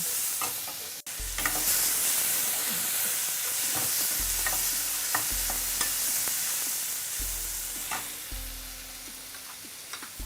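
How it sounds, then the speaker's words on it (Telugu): Urad dal and chana dal fry in a hot pan with a loud continuous sizzle, broken by repeated scraping strokes of a spoon stirring, close up and without speech. "బాగా ఫ్రై చేసుకున్నాం."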